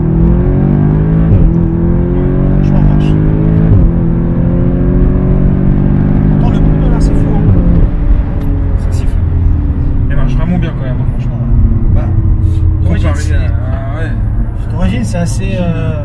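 A tuned Audi S3 8V Stage 2 with a remap and aftermarket exhaust drives on an empty country road, its engine droning loud and close with rising and falling pitch as it accelerates, while people talk inside the car.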